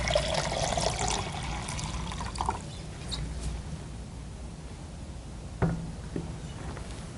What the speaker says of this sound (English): this is competitor's media that I'm adding 500 milliliters of acid to